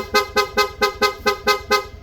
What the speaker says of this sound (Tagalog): Okay, so kasama na sa package yung rapid, then switch, PIA horn